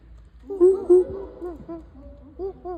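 People vocally imitate an owl call of two hoots, a pair of low, moaning hoot-like sounds near and fairly loud, followed by scattered softer voiced calls.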